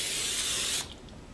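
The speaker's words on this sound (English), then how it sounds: "coat it with nonstick cooking spray" Nonstick cooking spray hisses from a can into a baking dish in one steady, close burst of just under a second before cutting off abruptly.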